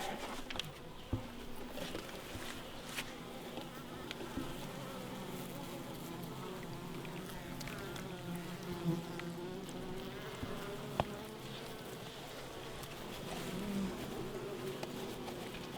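Honeybees buzzing around hives during autumn feeding for winter, a steady dense drone of many insects close by with occasional louder passes, no talking.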